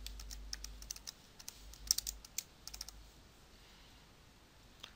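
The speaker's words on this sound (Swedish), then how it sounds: "Och så klickar jag på New Item och skriver hittade ägg." Clicking and typing on a computer keyboard while entering an item in a mobile app programming tool, with irregular light key taps and mouse clicks, close and quiet, no voices.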